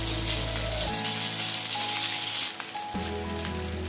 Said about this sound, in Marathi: असं दोन्ही साइडना आपल्याला चांगलं फ्राय करून घ्यायचं आहे